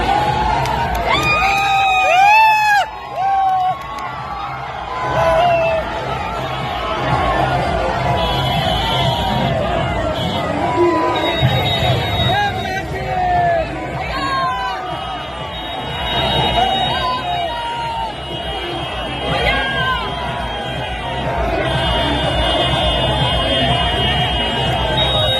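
A large crowd surges at a political rally in Araria, with loud cheering, whoops and shouting throughout, mixed with whistles and horn-like tones, as a voice talks over the din.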